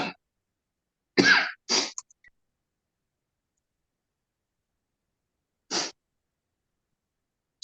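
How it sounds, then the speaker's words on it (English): Several dry, close coughs from a person at a Board of Revision meeting, a quick pair followed by a longer gap and another single cough, separated by silence. "And I apologize for coughing"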